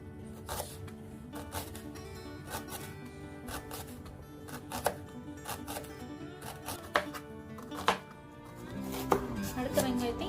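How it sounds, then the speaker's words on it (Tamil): Knife chopping small onions on a board for onion vadai, a Tamil roadside tea-shop snack: quick rhythmic taps, close and fairly faint, speeding up toward the end, with background music and some talk. "சின்ன சின்னதா வெங்காயத்தை நறுக்கிக்கோங்க."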